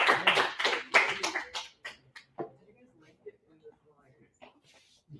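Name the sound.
audience applause in a classroom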